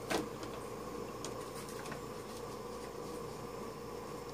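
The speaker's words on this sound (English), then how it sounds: "Turn on the printer scanner" A printer scanner powers on with a short click at the start, then settles into a steady, moderately loud mechanical whir and fan hum that runs unbroken to the end.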